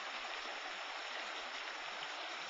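Sulphur Creek runs through Capitol Reef National Park, giving a steady, soft rush of flowing stream water that holds an even level throughout with no voices.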